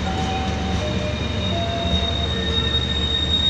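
Passenger train carriages roll past close by on an Indonesian railway, with steady wheel squeal and rumbling over the track throughout and no voices.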